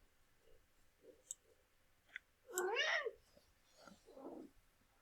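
A cat gives one clear, drawn-out meow followed by a shorter, softer meow, with small clicks before and between them in an otherwise quiet room.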